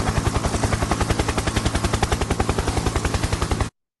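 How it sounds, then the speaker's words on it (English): A helicopter sound-effect sample plays as a fast, steady chop of rotor thuds, loud and close, running alone for several seconds before cutting off abruptly. "So that's the helicopter sound."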